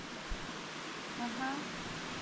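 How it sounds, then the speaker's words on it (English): A waterfall pours overhead in a cold, shaded spot on a remote fishing trip, giving a steady, close, broadband rushing roar with a faint voice briefly murmuring underneath. "There's a beautiful waterfall just overhead."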